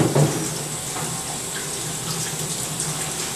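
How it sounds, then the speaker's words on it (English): Cold water runs from a tap over boba pearls held in a strainer, a steady, full rush of splashing water that carries on unbroken from start to end. "While the strainer is directly underneath the running cold water"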